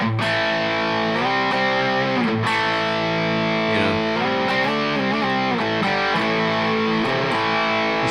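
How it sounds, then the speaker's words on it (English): Heavily distorted electric guitar through a Wampler Tom Quayle Dual Fusion overdrive pedal plays sustained, buzzing chords and notes with a thick overdriven tone, steady and loud throughout. "There's a lot of distortion there that's going to sustain for quite a while"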